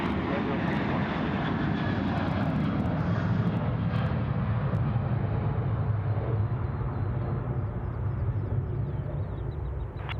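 Airliner taking off at Sydney Airport, its engines a loud, steady roar that holds constant and close throughout, with faint voices beneath.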